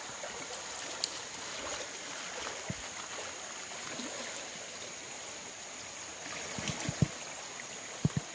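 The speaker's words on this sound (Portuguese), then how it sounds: "Isso aqui é a onda que ela faz aqui no meio do rio" The Rio Água Branca near Joaíma in Minas Gerais's Jequitinhonha valley flows with a continuous faint rushing, its waves churning mid-river, while occasional soft splashes and small knocks sound over the steady water noise.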